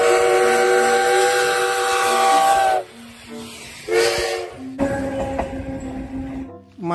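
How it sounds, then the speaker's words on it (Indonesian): Thomas toy train plays loud steam-whistle and hissing chuff effects in short bursts with brief pauses between, electronic and close by. "Kereta Thomas, teman-teman."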